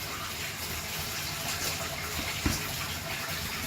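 Water pours steadily into a wet tumbling jug holding brass cartridge cases, a continuous close gushing fill with one brief knock partway through.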